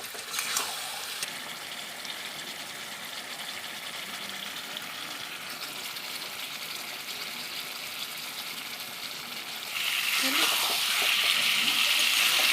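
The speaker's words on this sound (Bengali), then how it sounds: "এটাকে এর মধ্যে দেবো আলুটা। এখন এটাকে ভালো করে কষাবো।" Mutton curry with potatoes for a green mutton dish hisses in the pan, a steady sizzle that grows louder and brighter toward the end, with a brief voice near the start.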